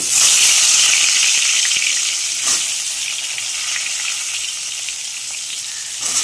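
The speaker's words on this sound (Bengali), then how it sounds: "বেগুনগুলো এবার আমি ভেজে নেব।" Eggplant pieces frying in hot oil in a wok give a loud, steady, close sizzle that hisses evenly throughout, with a faint stir or two and no voices.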